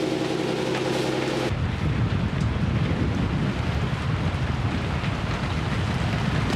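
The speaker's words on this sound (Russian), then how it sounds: "Ветер 23 узла." Strong 23-knot wind buffets a sailboat off Greenland, a steady, loud broadband roar with dense low rumble and gusty buffeting that continues throughout, with no talk.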